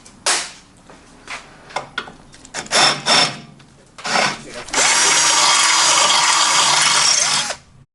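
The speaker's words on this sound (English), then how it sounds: "I've drilled a hole all the way through" A power drill bores a hole through a Honda Ruckus GY6 engine mount, starting with short loud bursts and clunks, then a sustained whining run of about three seconds close up.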